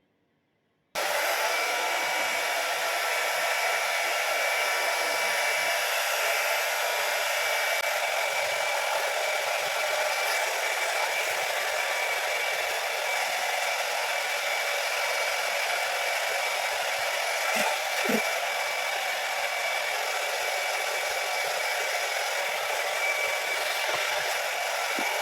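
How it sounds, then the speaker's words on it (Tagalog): A hair dryer switches on and blows with a steady, loud whir for the whole stretch, close by and uninterrupted. "ngayon, Magbo-blower tayo mara ng hair"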